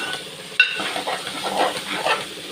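Ridge gourd pieces frying in oil in a pan for a keema curry, a close, lively sizzle with stirring scrapes and a sudden clatter near the start.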